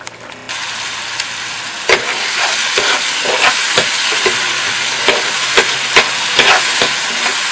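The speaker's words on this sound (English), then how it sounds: "Our tomato has been frying really nicely" Tomato for panla sauce fries in a pan with a continuous close sizzle, broken by regular scraping clicks as it is stirred.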